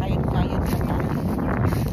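Steady wind noise buffets the microphone, a constant low rumble of moving air by open water, with no clear voices standing out.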